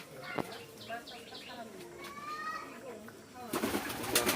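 Pigeons coo softly in repeated low, rolling calls inside a dirty pigeon loft, with a few chirps and a burst of fluttering wings near the end.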